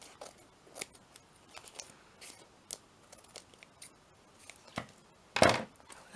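Scissors snip at fabric in a run of quick, light cuts spread unevenly, with one louder, longer snip near the end, close and otherwise quiet.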